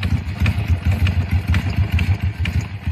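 A 2006 Harley-Davidson Sportster 1200C bobber idles close by with a loud, lumpy, uneven potato-potato thump, steady over a few seconds with no talk.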